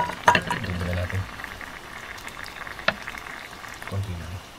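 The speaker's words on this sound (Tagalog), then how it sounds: "Parang kulo ng tubig to." A pot of rice boils outdoors, a soft, steady bubbling and simmer heard up close, with occasional brief clinks and low murmuring voices in the background.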